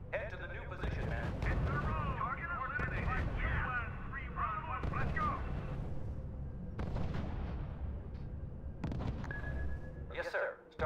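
Sustained gunfire and artillery fire on units in the R.U.S.E. strategy game, a dense rumbling barrage with repeated bursts running under near-continuous radio-style voice reports and commands.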